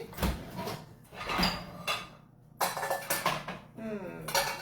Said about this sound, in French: je vais sortir juste mon bol que je pense qui était au lave-vaisselle